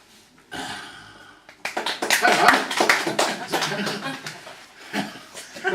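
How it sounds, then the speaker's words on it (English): Audience applause and clapping from a live crowd, starting thin then swelling into dense, steady clapping with a few louder bursts and some chuckling mixed in. "Well, thank you for the applause"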